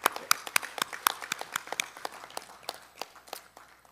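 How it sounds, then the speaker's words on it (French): A small group applauds at a finance ministers' expert committee conference once a report is adopted, with distinct, separate claps that start strong and slowly thin out. The room is fairly quiet and no voices are heard. "Je voudrais applaudir ce moment précis."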